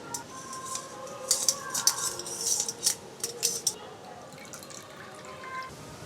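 Water drips and trickles from flour- and cornflour-coated chicken pieces draining in a metal strainer, with light clinks of metal utensils and dishes, close and fairly quiet.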